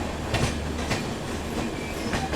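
Passenger train on the New Delhi to Barauni route heading toward Saharanpur, a steady rumbling roll with faint rhythmic rail clatter throughout, heard without talk.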